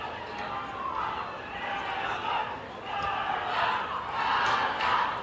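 A boxing match crowd at the Commerce Casino in California, a continuous murmuring roar with swelling cheers and shouts, fairly loud and close, with a commentator talking over it.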